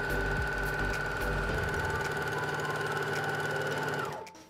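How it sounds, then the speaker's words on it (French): An overlock serger runs steadily for about four seconds, stitching and finishing the seam on fabric, a close, loud, continuous mechanical whir that winds down and stops at the end. "avec ma surjeteuse, comme ça je ferai et ma couture et puis mon point de surjet pour que ce soit bien propre"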